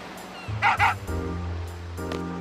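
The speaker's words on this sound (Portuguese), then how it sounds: "Olha lá o cachorro." A dog in the Final Fantasy VIII video game lets out a quick pair of close yips or barks, followed by lower whimpering tones over game background sound.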